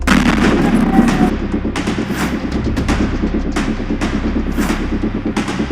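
A string of explosion blast effects, with loud repeated booms and sharp cracks one after another over a rumbling low background, with no voices.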